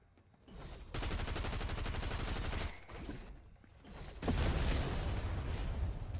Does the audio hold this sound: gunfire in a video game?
yes